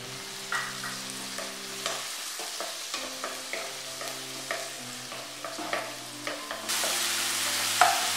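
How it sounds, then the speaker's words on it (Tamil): Tomato sautés in a pan for masala egg rice, a steady sizzle broken by repeated scraping stirs of a spoon, close and alone, the frying growing louder near the end. "இப்ப தக்காளி நல்லா வதங்கிடுச்சு."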